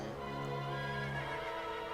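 Horse neighing in the video game Zelda: Twilight Princess, a sustained whinny heard over a steady tonal music bed, with no talk.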